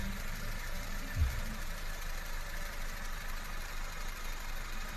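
A rebuilt car engine, repaired for oil burning and abnormal noise, idles evenly and fairly quietly at close range, a steady low hum with one brief bump early on.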